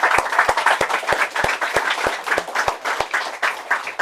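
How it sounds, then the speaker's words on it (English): A crowd at a sailing-race prize-giving party in Antigua applauds warmly and continuously, a dense wash of clapping with no voices. "Please give them all a round of applause."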